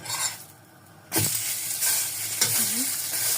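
A potato-stuffed aloo kulcha cooks in a pan with water instead of oil. After a quiet start, a sudden sizzle erupts and continues, broken by a few close scraping stirs.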